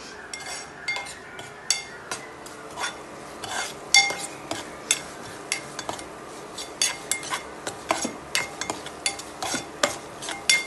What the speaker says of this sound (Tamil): இன்னும் இது வதங்கலை, கொஞ்சம் நேரம் வதங்கணும்.